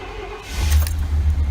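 A car engine cranks with the key and catches, a short starter whir rising into a steady low idle, close and alone.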